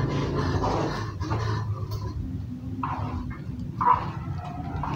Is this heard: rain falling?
no